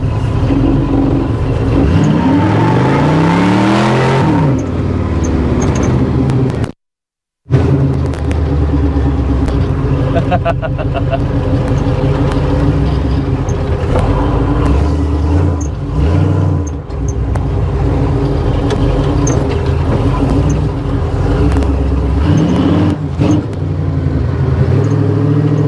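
A supercharged car engine rumbles steadily close by, with a couple of rising revs that climb and fall back to a heavy, throbbing idle.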